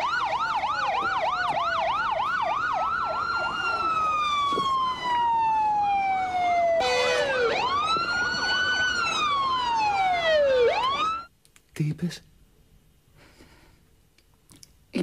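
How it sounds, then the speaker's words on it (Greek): A fire engine siren wails loudly nearby as the truck arrives, sweeping up and down in steady cycles, then shifting to a faster yelp before cutting off abruptly and leaving a quieter background with a few knocks. "Ήρθε πυροσβεστική."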